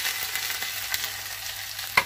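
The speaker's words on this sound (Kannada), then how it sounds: "ಈಗ ನೋಡಿ ರುಬ್ಬಿದಂತ ಖಾರ ಹಾಕ್ತಾ ಇದ್ದೀನಿ" Ground spice paste of tomato and coconut hits frying okra in a pan, giving a steady close sizzle with light stirring clicks and a sharper spatter burst near the end.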